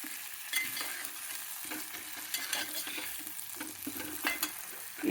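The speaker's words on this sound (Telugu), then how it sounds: "చామదుంపలు ఇది కొద్దిగా వేయించుకోవాలి" Taro pieces fry in a pan with a soft, quiet sizzle while a spatula stirs them, making scattered scraping clinks and taps at an irregular pace.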